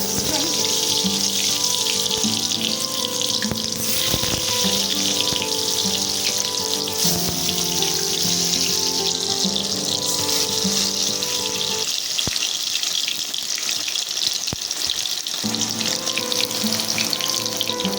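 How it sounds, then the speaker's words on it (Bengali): Bottle gourd slices fry in oil in a wok with a constant, fairly loud crackling sizzle that runs the whole time beneath steady tonal background music. "এবার লাউগুলোকে আমি উল্টিয়ে দেখি কিরকম ভাজা হলো"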